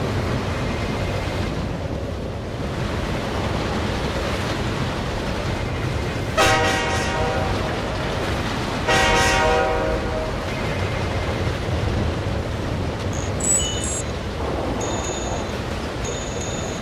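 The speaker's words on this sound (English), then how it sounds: "There's a freight train up ahead, on the next track over." A freight train runs on the adjacent track, a steady low rumble filling the whole stretch, with bright metallic squeals or horn-like tones rising around the middle and some high clanks near the end.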